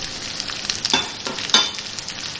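Bay leaf, four whole dried red chillies, black pepper and cloves dropped into hot oil for chicken do pyaza, giving a steady close sizzle with a couple of louder spitting bursts as they hit the pan.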